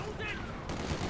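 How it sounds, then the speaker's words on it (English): Machine gun fire from a building during a Company of Heroes 2 match, heard as a brief rattling burst in a dense battle mix with other gunfire and commentary-like voices underneath. "This time the machine gun in the building does get some work done"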